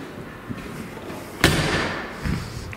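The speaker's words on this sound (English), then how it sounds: "Nice solid thud when you close the door." The door of a 1989 Jaguar XJS V12 shuts with a single solid thud, a short heavy slam close by in an echoing space, with faint background noise around it.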